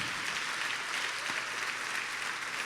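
A church congregation applauds in a steady, continuous wash of clapping, heard at a slight distance without any clear voices.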